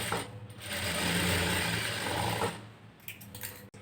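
Sewing machine stitching binding strip onto a garment's closed front neck, a close continuous mechanical whir for about two and a half seconds, then a few short clicks and stops.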